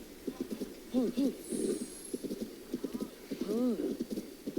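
Horse hooves clip-clop at a steady, rhythmic trot in the video game The Legend of Zelda: Tears of the Kingdom, close and clear, with someone talking over them throughout.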